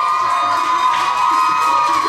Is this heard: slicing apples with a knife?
no